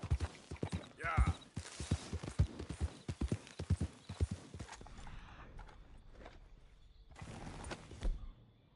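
A horse's hooves in Red Dead Redemption 2 beat out a fast, loud, steady clip-clop at a gallop, then ease off into a quieter stretch before a final short burst, with some brief speech in between.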